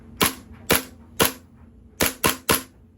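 Six sharp, loud shots from a KWA kz.61 Scorpion gas blowback airsoft machine pistol, each with a snappy bolt crack. Three are evenly spaced, then there is a pause before a quicker group of three.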